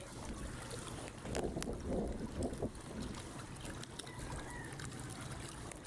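Strong wind during a storm at a breached coastal dike buffets the microphone in a constant roar, with gusts swelling and easing. No voices.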